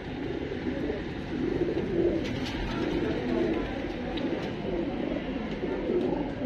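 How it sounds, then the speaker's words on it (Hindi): Soft, continuous cooing from several desi pigeons at once inside a loft, a low murmuring chorus that rises and falls without pause. "ये देखिए इस लॉफ्ट के अंदर ये हैं कबूतर"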